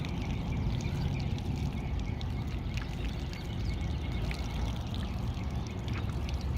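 Warm water from a makeshift shower in a parking lot pours and splashes in a steady, continuous close-up rush, with no talking.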